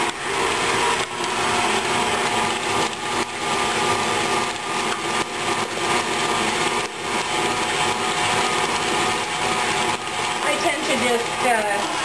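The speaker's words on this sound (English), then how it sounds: "add your egg in the blender or in the mixer" An electric mixer or blender beats cream cheese, sugar and egg into a batter for a Bavarian apple torte, whirring steadily and loudly throughout with brief talk over it.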